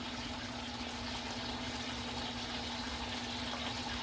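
Vinegar being poured into a pot of boiling water while making poached eggs, a steady, continuous bubbling and rushing liquid sound with a low hum, close and moderately loud, no voices.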